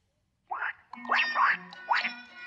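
A cartoon duckling just hatched from an egg gives three raspy, nasal quacks in quick succession, close and clear against a quiet background.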